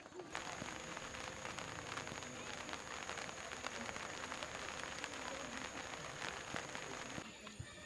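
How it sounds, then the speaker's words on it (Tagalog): Steady rain falls at dusk in a rural Philippine home setting, a dense continuous patter on surfaces with scattered louder drops, moderately loud throughout and fading slightly at the very end, with no talk. "Yan yung ulan, no?"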